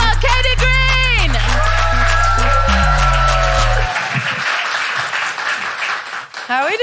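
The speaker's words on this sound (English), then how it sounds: "Would you mind starting the applause there?" Comedy club audience applauding as a stand-up comedian is welcomed to the stage, the clapping running throughout behind loud walk-on music that cuts out midway, leaving the applause to continue alone.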